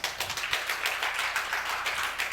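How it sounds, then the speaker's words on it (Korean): A modest audience gives brief, scattered applause at a talk, light clapping that carries on evenly for a couple of seconds, moderately distant and fairly soft. "축하 의미로 박수 한번 주시죠."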